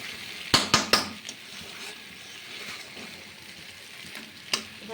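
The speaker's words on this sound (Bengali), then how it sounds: "এই ডিমগুলো দিয়ে আমি এখন এই যে নাড়াচাড়া করবো।" Eggs with garam masala being stirred in a frying pan: a few sharp spoon clacks against the pan early on, then a low steady sizzle with one more knock near the end.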